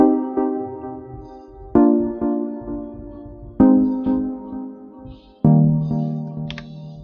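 An FL Studio synth pattern on the Midnight preset plays repeated plucked chords, each sharp attack decaying before the next, melodic and clean, with no voices over it.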